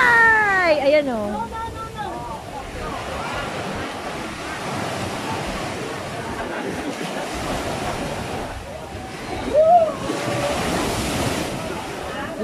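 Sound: big ocean waves at the beach

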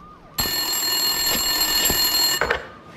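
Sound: telephone ringing in video game Max Payne 2

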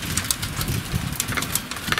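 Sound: hail falling

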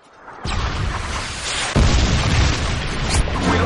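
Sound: Predator missile explosion in a Call of Duty-style video game

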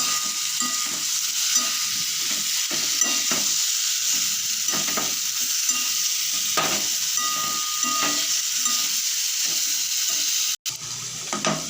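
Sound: stirring boiled jackfruit into fried spice paste in a pan

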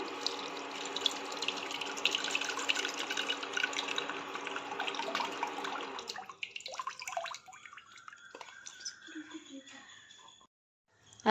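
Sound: tamarind squeezed and its water poured into a dish

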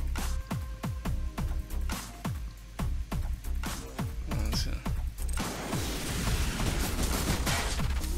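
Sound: rocket launcher explosion in the video game Frozen Synapse

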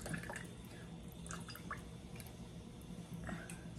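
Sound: squeezing lime juice into a cocktail

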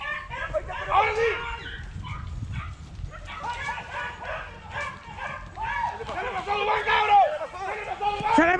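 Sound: greyhounds barking during a hare and rabbit hunt

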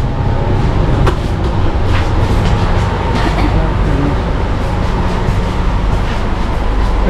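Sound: inside Garib Rath passenger train

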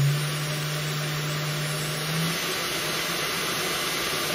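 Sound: cooling fan on top of CNC router spindle

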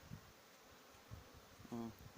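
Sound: honeybees flying at the hive entrance

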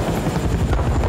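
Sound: helicopter in the video game Battlefield Bad Company 2

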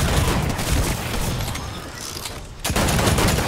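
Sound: gunfire shooting at the player in a video game

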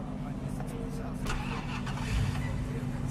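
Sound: police car engine starting in a video game

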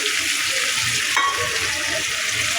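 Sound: shrimp frying with turmeric and cumin in tomato masala

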